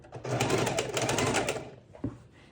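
Domestic sewing machine stitching quilt fabric borders runs in a fast, steady whir for about two seconds, close and clear, then slows and stops with a soft clunk.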